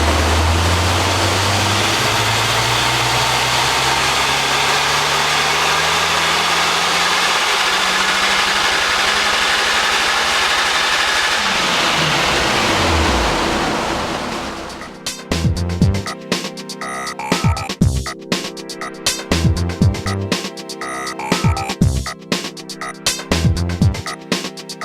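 Tuned Mitsubishi Evo X with a converted adjustable ECU on a dyno: loud, sustained engine roar climbing steadily in pitch through the run, then dropping off sharply and giving way to choppy, uneven mechanical rumbling and idle.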